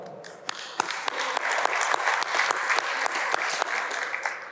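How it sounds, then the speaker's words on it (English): Applause for an automobile company at an awards program, a dense steady clapping of a sizable audience with sharp individual claps standing out, moderately loud and continuous with no talking. "So another virtual applause for Cherry Automobile."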